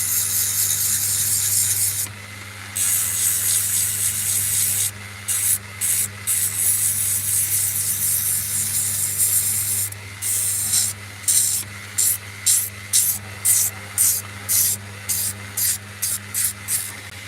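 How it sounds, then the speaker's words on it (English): A 1-inch belt sander works a wood carving up close, a harsh continuous abrasive hiss broken by short pauses, then repeated quick on-off strokes toward the end. "This is a 1-inch sander."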